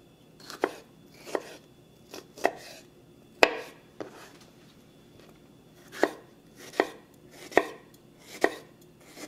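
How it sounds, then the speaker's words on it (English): A knife chops ingredients for salsa verde with xoconostle on a cutting board, giving steady, separate thuds about once per second, close and clear with no talking. "Chop it as fine or as chunky as you want."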